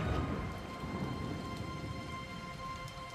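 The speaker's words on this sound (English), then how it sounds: "the autumn rains begin on the Somme" Steady rain hisses and patters over a low rumble, evoking autumn rain falling on the flooded Somme trenches, a continuous moderate wash with no voices.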